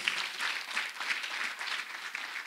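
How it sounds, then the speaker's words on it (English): A church congregation claps together during a healing service, a continuous, moderately loud patter of many hands with no voices on top. "Let us clap for Master Jesus."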